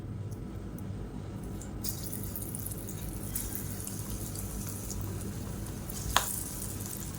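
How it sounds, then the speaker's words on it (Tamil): Beetroot pakoda balls frying in hot oil in a kadai, a steady soft sizzle and bubbling with a few faint clinks and one sharp tap near the end, no talk. "இப்போ எண்ணெய் நல்லா காஞ்சிருச்சு. சின்ன சின்ன பக்கோடாவை நம்ம உருட்டி போட்டுக்கலாம்."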